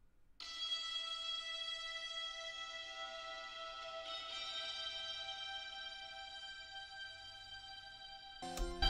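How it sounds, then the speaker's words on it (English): A guitar lick from the Producer Grind Cadence kit rings out as sustained, bright tones that hold steady for several seconds before a new attack near the end, clean and close with no talking. "we got this guitar lick from Producer Grind cadence drum kit."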